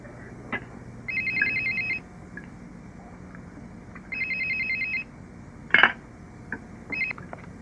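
A telephone rings on a call to a movie-listings phone service, three electronic ring bursts spaced a few seconds apart, with a few short clicks and a tone between them.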